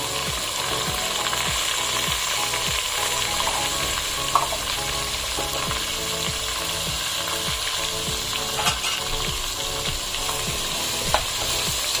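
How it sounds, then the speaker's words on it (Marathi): Onion and tomato sautéing in a pan for a traditional Bhogi mixed vegetable dish, with a steady oily sizzle and repeated scraping strokes of a spatula against the pan, close and continuous with no talking. "हे कांदा आणि टमाटर मऊ होईपर्यंत आपल्याला आता परतायचं आहे"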